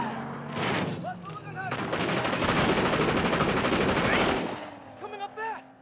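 Rapid automatic gunfire bursts loudly in the video game Sleeping Dogs during a car chase, a dense sustained volley with engine rumble beneath and brief shots before and after.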